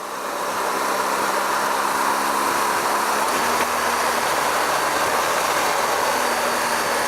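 BMW R1200GS motorcycle engine droning steadily while riding on the freeway, a continuous hum mixed with broad wind rush, loud and unbroken throughout.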